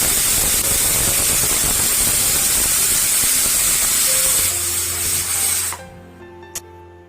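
A pressure cooker boiling chana dal with water hisses loudly and steadily for several seconds, a steam whistle whose sharp hiss then cuts off abruptly, leaving a low hum and a faint click.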